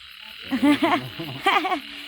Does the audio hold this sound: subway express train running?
no